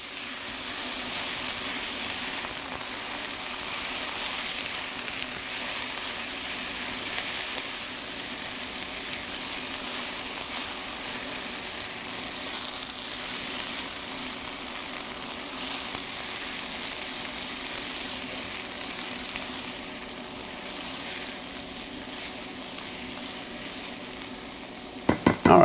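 Asparagus sizzling steadily in a hot pan while frittata is being made, a continuous close frying hiss with soft stirring, no talking.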